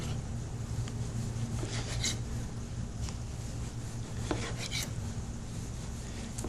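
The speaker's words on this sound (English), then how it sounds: "Do some tomato slices." Tomatoes being sliced with a knife, producing faint repeated cutting taps over a steady background hum, close and quiet.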